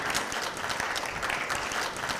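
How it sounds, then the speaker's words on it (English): A convocation crowd applauds the male faculty, producing a dense, continuous wash of clapping from many hands, fairly loud and even throughout the short burst. "let's give a round of applause to our male faculty too"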